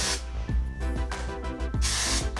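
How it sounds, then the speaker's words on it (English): Lightweight hairspray is sprayed onto a half-up top knot hairstyle in a few close hissing bursts, with brief rustling between them. "add a little bit of lightweight hairspray just to really put it in place"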